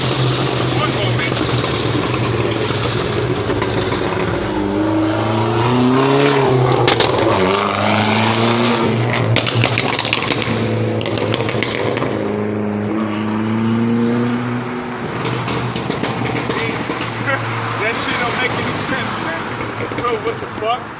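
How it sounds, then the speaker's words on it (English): A loud car engine with a modified muffler roars and revs, rising and falling over a constant low drone for the whole stretch, while someone talks over it. "What's the point of having an engine what's the point of having a muffler like that, man?"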